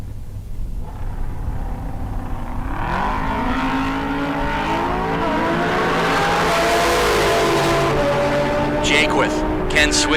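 Drag racing cars, a Ford Capri and a Hayabusa, launch at a bracket race, with a loud engine roar rising in pitch as they accelerate away, while an announcer talks over the noise.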